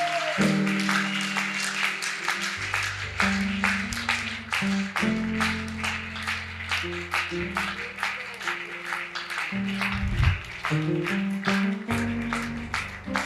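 A church congregation at a Sunday service claps in a steady rhythm along with music and sustained singing tones. The sharp, evenly spaced claps continue throughout at moderate volume.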